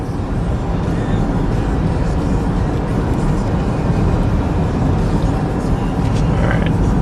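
A salvage-rebuilt 2013 Chevy Equinox LT AWD cruises at highway speed, with steady broadband road and wind roar filling the cabin continuously and no talking.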